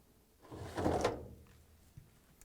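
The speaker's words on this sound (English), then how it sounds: "and remove the Lint screen." A soft scraping slide with a muffled thunk in the middle as the lint screen is pulled out of a Whirlpool/KitchenAid/Maytag clothes dryer, followed by quiet handling noise.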